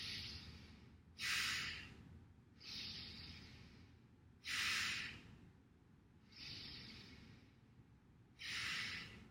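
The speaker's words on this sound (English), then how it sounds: "imagine that you're breathing like a bellows" Bellows breathing through the nose: forceful, rhythmic inhales and exhales alternate in a steady cycle, about six breaths, close and airy, each a loud hissing rush with quieter gaps between.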